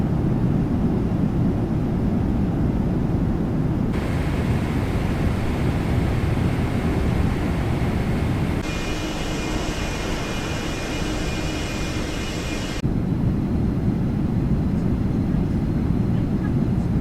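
Boeing 777 airliner cruising in Microsoft Flight Simulator 2024 on an Air Canada flight from Toronto to Vancouver, a steady broadband engine and air roar with shifts in tone between sections and no clear talk.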